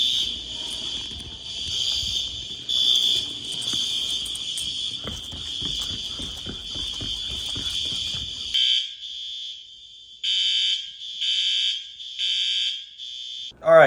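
School fire alarm sounding, its high-pitched electronic tone pulsing steadily under scattered talk and clatter, then cutting into separate on-off bursts with silent gaps between them.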